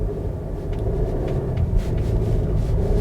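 A Seat Tarraco SUV rolls along a road toward a speed bump, its cabin filled with a steady, loud low rumble of tyres and engine that swells slightly partway through, with no talking.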